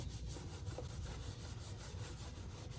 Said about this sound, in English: give it a good scrubbing.